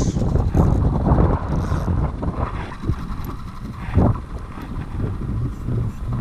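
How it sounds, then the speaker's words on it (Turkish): Strong wind buffeting the microphone in heavy, rumbling gusts, with outdoor water noise underneath and no talking, during a pike fishing outing. "aşırı rüzgar var"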